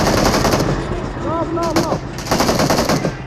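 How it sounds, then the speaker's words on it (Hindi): Rapid automatic gunfire rattles through a BGMI mobile battle-royale match. The shots come in loud, dense bursts with a few pauses, and a voice is heard briefly over them. "ओए गोली चला रही है, एक में बंदा है यहाँ।"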